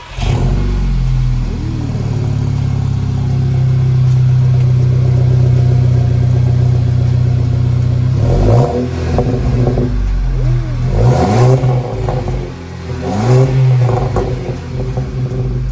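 A loud, deep exhaust on a Mk6 Volkswagen GTI with a catback and catted downpipe idles, then revs sharply several times in quick bursts, rumbling and growling up close before dropping back to idle.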